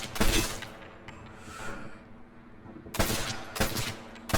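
Rifle fire in the video game Medal of Honor Airborne cracks out in loud, sharp bursts, a cluster at the start and several more shots near the end with a quieter lull between.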